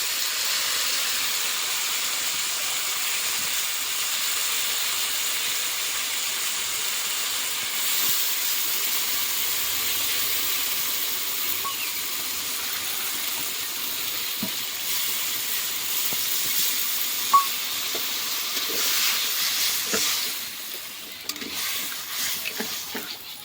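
Water heats to a boil in a pan on the stove for a mustard and poppy-seed fish curry, giving a steady, loud broadband hiss and rush of steam that continues unbroken, with a few faint clinks near the end and no talking.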